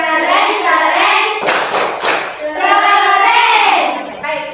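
A group claps the rhythmic 'tepuk keren' pattern, a quick run of sharp, close claps bursting between chanting voices. The claps sit alongside the singing rather than standing alone.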